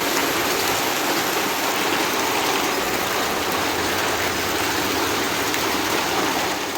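Heavy rain pours down steadily during the rainy season, a dense, even hiss of water hitting surfaces that holds unbroken and loud throughout, with no voices.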